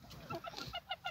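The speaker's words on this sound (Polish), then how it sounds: "O, kogucik." A rooster in a backyard chicken coop gives a few short, clucking calls, close and clear with low background noise.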